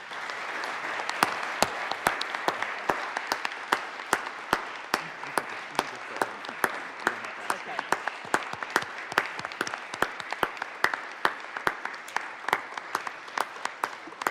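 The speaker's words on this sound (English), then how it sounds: "Ms. Haskell, those applause are for you." Sustained applause fills the Colorado Senate chamber for a staff member, steady crowd clapping with sharp individual claps standing out throughout, loud and close, with no talking.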